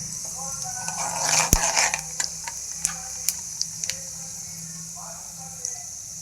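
Mustard seeds and cumin spluttering in hot oil at the start of a pudina bath recipe: scattered sharp pops crackle irregularly over a low hiss, with a voice briefly talking early on.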